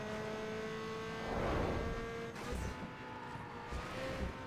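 A Nissan R34 Skyline GTR races in the video game Need for Speed Underground 2, its engine holding a steady, moderately loud high-speed drone that swells briefly and then carries on, with no talking.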